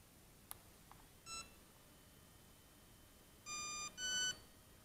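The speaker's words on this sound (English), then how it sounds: "you can hear the beeps. That's 4 beeps." Several short electronic beeps from a Hobbyking Skull Crusher monster truck speed controller entering programming mode: a quick tone, then a pair of longer beeps, faint and close with quiet between.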